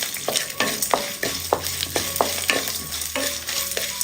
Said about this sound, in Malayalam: ഒരു 30 സെക്കൻഡ് ഒന്ന് ഇളക്കി കൊടുക്കാം